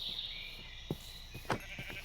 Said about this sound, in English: And up there's some sheep.